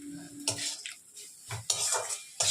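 Fried pointed gourd pieces go into a pan of cooked shrimp, heard as a few close, separate clattering drops and spoon-on-pan clinks with quiet gaps between them.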